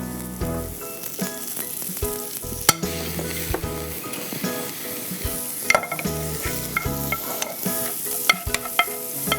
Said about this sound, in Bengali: এরপর আমি যেটা দেব, বাটার 1 টিস্পুনের মতো আমি বাটার দিয়ে দেবো